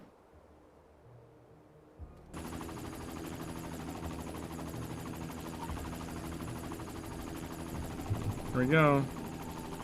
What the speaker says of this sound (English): Helicopter ahoy!